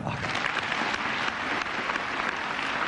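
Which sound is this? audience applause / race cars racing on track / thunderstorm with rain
audience applause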